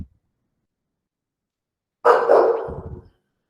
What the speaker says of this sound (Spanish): tengo aquí un inconveniente con un canino